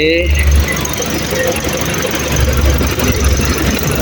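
Toyota Calya 2016 1.2-litre 1200 cc manual engine idling with a steady, continuous hum and a faint high squeal, heard close up at the engine bay under low background noise.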